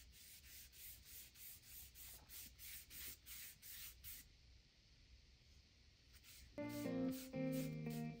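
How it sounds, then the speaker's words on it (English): A brush spreading wood stain across a wooden door sign, a close rhythmic series of about a dozen soft rubbing strokes, then a pause and a brief musical tone. "I'm just brushing this on and then I'll wipe off the excess stain."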